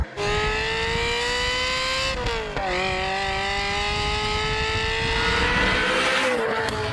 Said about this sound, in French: elle est équipée d'une ligne en inox. Donc autant vous dire que dans la partie essai routier, vous allez voir, ça chante très très bien